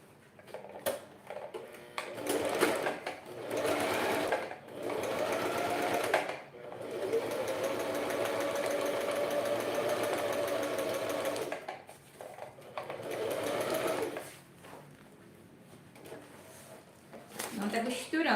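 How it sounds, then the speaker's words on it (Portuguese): A sewing machine stitches the fabric lining of a wine holder in several runs, a fast even whir with ticking, stopping and starting between bursts while someone talks softly. "Última costura do nosso forro, pra gente fechar ele aqui todinho."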